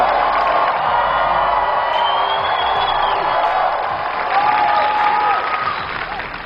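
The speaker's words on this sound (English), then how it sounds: "Give him hands, Bill." A live crowd claps and cheers in a dense, sustained burst that holds steady for several seconds with a few whoops rising above it, then begins to ease off at the end.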